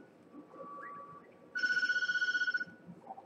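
A telephone rings in the horror game Tattletail, one loud electronic trill of rapid pulses lasting about a second, rising sharply above a quiet low rumble of background ambience.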